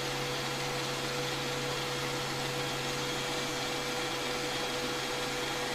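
An electric mixer whisks double cream for chocolate ice cream lollies, giving a steady, loud motor whine with a constant hum that runs unbroken throughout.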